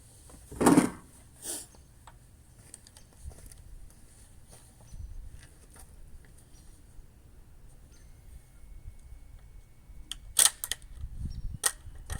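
A Beretta ARX100 rifle fitted with a factory SBR barrel kit fires a couple of sharp shots early, then the weapon is handled with clicks and rattles before more loud reports near the end, with no talking.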